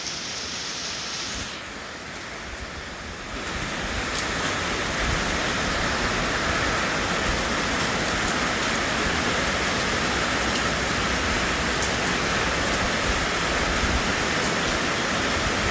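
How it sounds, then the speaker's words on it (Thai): Heavy daytime rain pours down in a steady, dense hiss, loud and continuous throughout, with no voices present. "ฝนตกอยู่ตอนนี้จัง"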